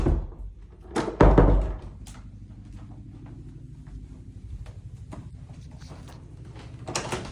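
A double-door closet in a house in Chevy Chase, Maryland is opened and closed, with a loud wooden thump and rattle early on, then soft handling noises and another knock near the end.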